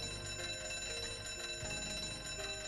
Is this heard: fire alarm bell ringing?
yes